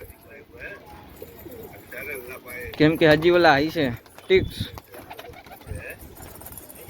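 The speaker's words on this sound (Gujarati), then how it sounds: "કબૂતર બધા ખંજોળ જ કરે છે" Pigeons that have just been bathed in medicated water coo close by, with a burst of throaty, rolling coos in the middle while people talk before and after.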